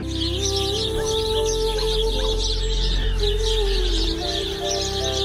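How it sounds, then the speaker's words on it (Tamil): Busy chirping of sparrows fills the scene continuously, a steady chatter of tweets over a constant low hum, with no talking, in a village. "ஒரு வில்லேஜில் சுற்றி குருவி சத்தம் சிட்டுக்குருவி அத்தனை சிட்டுக்குருவி"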